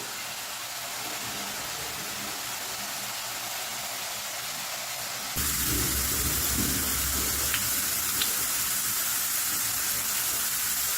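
Grated potato fries in hot oil for crisp white potato chivda, giving a steady, dense bubbling hiss that jumps suddenly louder and fuller partway through and then continues evenly.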